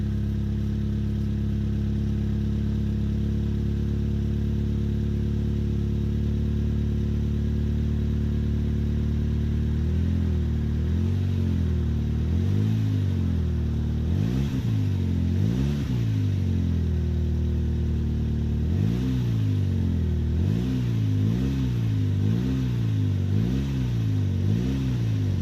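A Saab engine with a restored turbo idles steadily, then revs in repeated rising bursts, loud and close, with several throttle blips toward the end and no talk over it.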